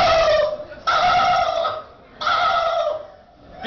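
A performer at a talent show imitates a turkey gobbling in two loud, warbling bursts, close up, with a short pause between them.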